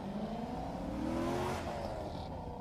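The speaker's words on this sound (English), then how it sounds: "Derek finishing in his Miata" A Mazda Miata finishing an autocross run, its engine revving and changing pitch at a distance, faint and continuous over a low outdoor background.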